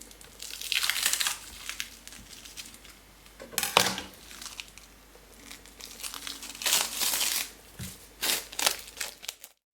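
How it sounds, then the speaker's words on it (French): Plastic cling film crackles and crinkles in repeated bursts as it is peeled off a chilled, hardened roll of cookie dough that has been cut in half, with louder tearing surges near the middle and toward the end. "puis retirer le papier film."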